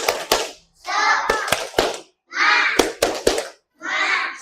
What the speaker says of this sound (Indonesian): Kita tepuk semangat dulu yuk, biar kita lebih semangat.